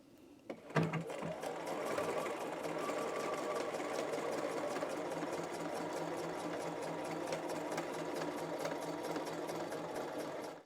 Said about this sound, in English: I'm going to be basting at 1/4 of an inch just to help get the sleeve in there